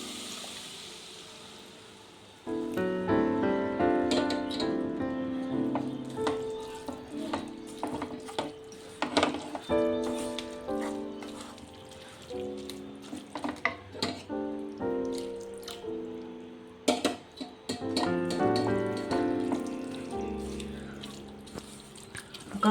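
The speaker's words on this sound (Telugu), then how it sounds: "ఇప్పుడు దీంట్లో పాలు పోసుకొని ఉడకబెట్టుకుందాం." Milk poured into a pan of softened grated carrots for carrot halwa, a steady liquid stream and bubbling simmer with clinks of a spoon or vessel running throughout, fairly close and continuous.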